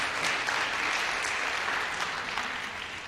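Audience at a school speaking contest gives a round of applause, a continuous wash of clapping that stays even and tapers slightly at the end, with no voices.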